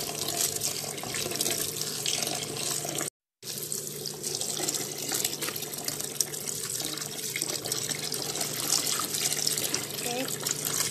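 Tap water runs steadily into a sink as ampalaya leaves are rinsed by hand, a continuous splashing flow with one brief break, close and fairly loud.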